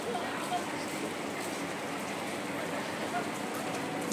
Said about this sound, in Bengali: ঝিরি ঝিরি বৃষ্টি পড়তেছে